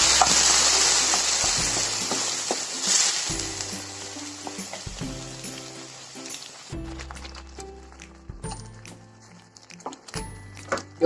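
Ground onion masala paste sizzles in a pan for an egg masala curry, a loud, steady hiss at first that gives way to softer frying with repeated thuds and scrapes of stirring.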